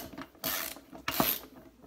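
A ratchet works on the last cylinder head bolt of a Demon engine, giving two short bursts of rapid clicking close by with quiet pauses between them and no speech.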